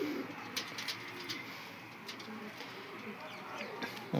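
Pigeons coo softly at a moderate distance over a continuous background hum, with a few sharper chirps and clicks scattered through.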